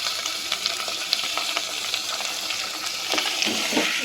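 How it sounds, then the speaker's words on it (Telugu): Chicken pieces hit a hot pan for chicken rasam, giving a steady, close sizzle and frying hiss with faint stirring clatter underneath, with no talking. "చికెన్ వేస్తున్నా, చికెన్ రసం."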